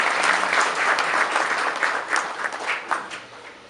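Loud, dense applause from a ceremony audience marking the 47th anniversary of the Green March, a thick continuous burst of clapping close by that slowly thins toward the end.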